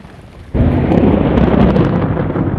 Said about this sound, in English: while the thunder and lightning is going on over here